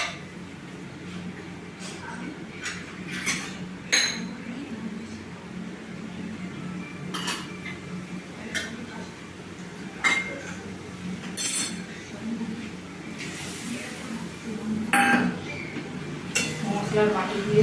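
A metal spice bowl clinks and knocks while being rinsed with water in a home kitchen during brinjal muitya cooking. There are about a dozen sharp, close clanks at uneven intervals over a low steady hum.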